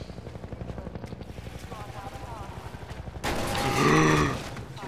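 Helicopter attacking with gunfire in the game Half-Life 2: a steady rapid rotor chop gives way to a loud burst of machine-gun fire that swells and fades.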